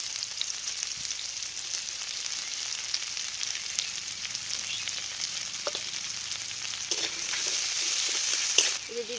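Chopped onions sizzle steadily in a pan with two bay leaves and five-spice seasoning for a home-style egg curry, a continuous hiss with occasional stirring clinks, no talking.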